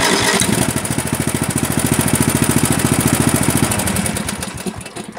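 A Craftsman LT4000 lawn tractor engine cranks with a fast, even chugging pulse for several seconds, loud and close, then runs on briefly and fades without catching cleanly.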